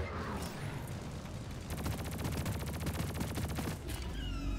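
Players in the co-op shooter Deep Rock Galactic fire guns in a dense, rapid burst of automatic fire lasting about two seconds, loud and close, set against a steady rumble of game noise.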